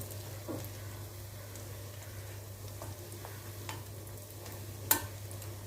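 Vegetable lollipop snacks fry in hot oil with a soft, steady sizzle, a faint continuous crackle with occasional small pops and one sharper tick near the end, heard alone.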